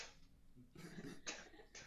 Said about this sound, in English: I hear over here coughing about